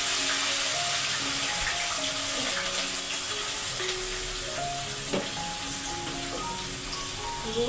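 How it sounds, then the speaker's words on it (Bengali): Garlic fries in hot oil for tempering, giving a continuous close sizzling hiss with occasional clinks and light stirring taps. "রসুন ফোড়ন দিয়ে ভেজে নিই"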